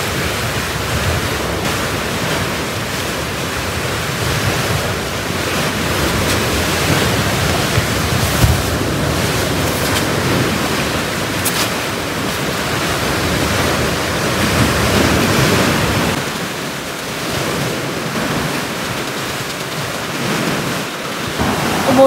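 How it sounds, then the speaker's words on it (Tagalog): Ocean waves wash onto a beach beside a forest, a loud continuous roar of surf that swells and eases over about twenty seconds, with wind buffeting the microphone and no talking. "lumalaki na yung alon"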